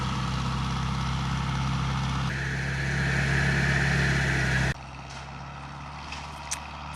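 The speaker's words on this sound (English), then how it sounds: "The tractor is pretty loud." A tractor rumbles along a road near a garden, its loud low engine drone steady and close, swelling slightly before dropping off abruptly to a quieter background.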